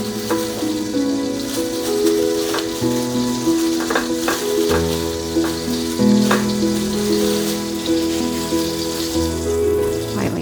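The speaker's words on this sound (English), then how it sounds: "You can hear the sizzle." Lightly breaded chicken breast sizzles loudly in a frying pan, giving a steady crackle with sharp pops and spatters, heard close up with no talking.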